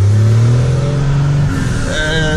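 A car driving on a bare wheel rim accelerates hard in second gear, its engine note loud and rising steadily close by, with a gritty scraping undertone.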